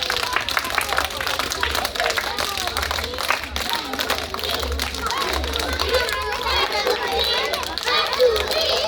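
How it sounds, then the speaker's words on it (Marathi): A group of children clap with their hands raised during a Saturday school activity, quick scattered claps mixed with excited chatter and voices. "हात वर करा आणि सगळ्या जणांनी खूप साऱ्या टाळ्या वाजवा."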